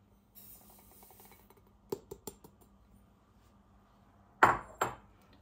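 Sugar tipped into a Thermomix bowl: a soft scattered trickle, a few light clicks and taps, then two sharper knocks of the container against the bowl, close and fairly quiet, with no talk.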